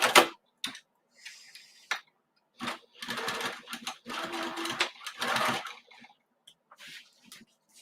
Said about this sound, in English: I don't know if you heard my thread cut